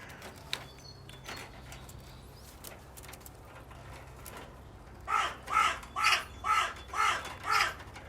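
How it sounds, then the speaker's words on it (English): Crows caw in the distance in a damp outdoor setting: a run of about six faint, evenly spaced caws rises late in the clip above a quiet background hiss. "Getting some long-range crow information as well."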